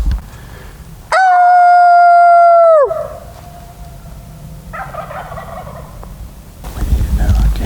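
A wild turkey gobbles in a loud, drawn-out call with strong steady tones for about two seconds, followed by quieter rough calls and outdoor noise.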